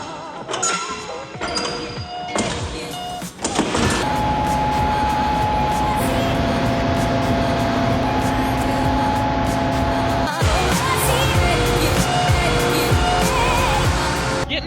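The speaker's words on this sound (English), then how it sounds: "Getting the combine back out of the shed sure gets me excited for harvest." A combine harvester rumbles as it drives out of a farm shed, its big engine droning loud and steady with layered mechanical hum, rising in level after a few seconds and holding to the end, with no talking.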